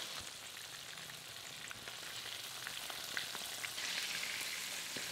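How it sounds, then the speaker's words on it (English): Pork ribs for salt and pepper ribs frying in hot oil, a steady bright sizzle with scattered crackles and pops, fairly close and continuous with no talking. "Once the oil's hot, add the ribs one at a time and we're going to cook for about 10 to 15 minutes"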